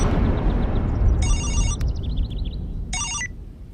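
A telephone rings in two short electronic bursts during a Bhojpuri action film scene, heard over a steady background rumble of score with no talk.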